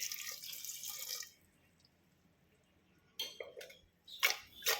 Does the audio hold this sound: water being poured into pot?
yes